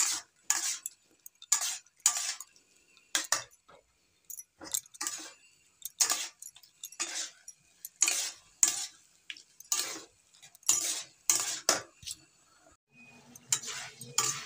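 A spoon clatters and scrapes rhythmically against a cooking pot as boiled dal and vegetables are stirred, repeated distinct strokes with quiet gaps between them.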